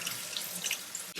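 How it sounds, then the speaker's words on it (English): Cold tap water runs from a faucet over strained cooked shrimp in a sink, a steady close splashing hiss that cuts off abruptly at the end. "run it under some cold tap water for it to cool down"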